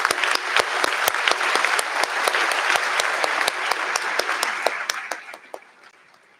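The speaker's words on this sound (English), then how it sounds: "how about a round of applause for our many volunteers here this evening helping us out" A graduation audience applauds the evening's volunteers, dense sustained clapping with sharp individual claps standing out, loud and steady before thinning and fading toward the end.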